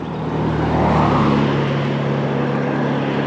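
A car passes close on a road beside an e-bike rider, a steady broad rush of tire and engine noise swelling and holding, with wind over it.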